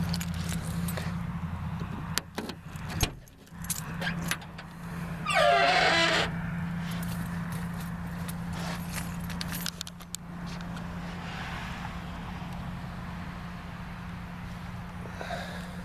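Original keys to a 1984 Pontiac 6000 LE jangle and clink in bursts close by, metallic rattles over a steady low engine-like hum with occasional handling noises.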